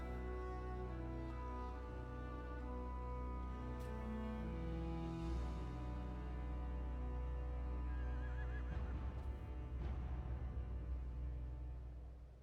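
A horse whinnies in the fantasy tactics video game Tactics Ogre: Reborn, a drawn-out neigh over steady orchestral game music, followed near the end by a second stirring of hoofbeat-like rumble.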